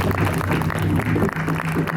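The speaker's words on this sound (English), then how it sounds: "let's give all the helpers that are keeping us comfortable here today a good round of applause" A crowd at an outdoor drum gathering applauds the helpers with steady, dense clapping that carries through the whole stretch, loud and close with crowd murmur mixed in.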